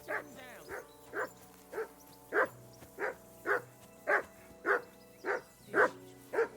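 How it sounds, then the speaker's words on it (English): A dog barks repeatedly in the game Kingdom Come Deliverance II, about a dozen evenly spaced, fairly loud barks in steady rhythm, with a faint background hum and no talk. "That dog of yours is barking like the devil."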